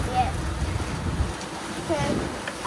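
Wind buffeting a sailboat at sea between the Bahamas and Panama, a steady broadband rush and microphone rumble with a brief voice partway through.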